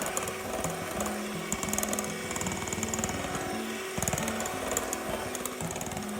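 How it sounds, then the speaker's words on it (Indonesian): An electric mixer beats sticky gluten-free bread dough as its speed is slowly raised, producing a continuous close whirring motor drone whose pitch shifts in steps, with faint rattling and no voices. "naikkan kecepatan mixer perlahan"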